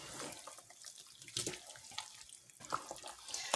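Water running from a tap while cooking vegan pasteles, a close splashing stream that fluctuates in loudness with brief spurts and gurgles, heard on its own.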